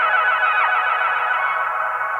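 A heavily filtered Omnisphere synth arpeggio rolls on in a dense, steady midrange wash, its notes smeared by reverb and sustained without a break.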